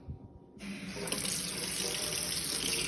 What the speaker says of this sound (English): So the next thing I'm gonna do is I'm gonna rinse some of this stuff off.